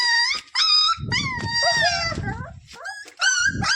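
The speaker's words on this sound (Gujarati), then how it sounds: "ચાર ગલુડિયા છે મિત્રો" Four young puppies whimper and whine close by in high, wavering cries that rise and fall, with short pauses and some low rustling underneath.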